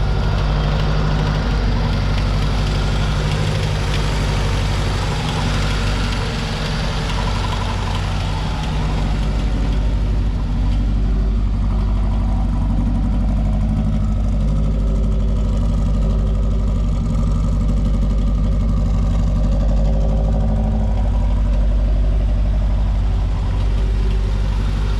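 A Ford Fiesta MK2 XR2 engine on fresh spark plugs runs steadily at idle, a loud, close, continuous low rumble with a slightly uneven pulse throughout, no voices over it.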